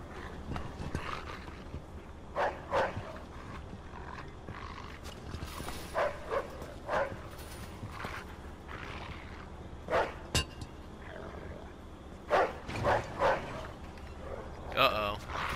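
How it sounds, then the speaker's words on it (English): A dog in the video game Mafia II barks in short, scattered bursts over a murmur of game ambience, with several sharper barks toward the end. "there's that dog again."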